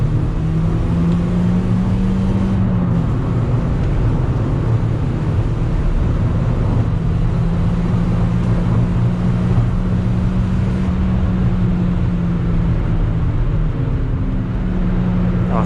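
A Toyota Yaris laps Oulton Park race circuit, its engine droning loud and close from the cabin, with tonal revs rising and falling through gear changes and no talk.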